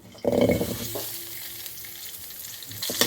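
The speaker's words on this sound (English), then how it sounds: "Now I'm adding a little bit of oil and I'm going to fry the small onions" Small onions fry in a little oil, a moderate sizzle that starts with a burst of stirring clatter, settles into a softer crackle, then picks up again at the end.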